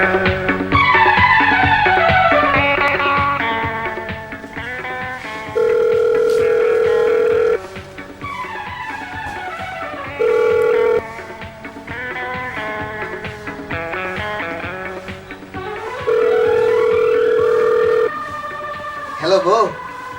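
Three bursts of a steady, flat telephone tone sound while a man calls his wife, each lasting one to two seconds. Busy music plays loudly beneath and between them.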